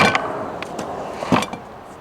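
A loose drive shaft slip yoke on a Bronco clunks and knocks a few times, close by, over a steady background noise.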